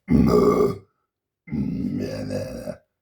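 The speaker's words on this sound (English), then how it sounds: "rattling against my arytenoid cartilage, which is what I now use to make my fry screams" A man's vocal fry scream made with the epiglottis rattling against the arytenoid cartilage, two harsh, gravelly growling bursts close to the microphone separated by a brief silence.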